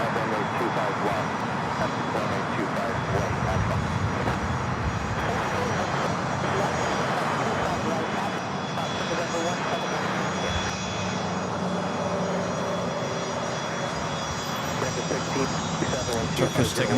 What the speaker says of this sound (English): Turkish taking off there on the north side.